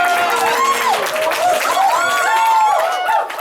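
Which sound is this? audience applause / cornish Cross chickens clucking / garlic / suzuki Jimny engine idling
audience applause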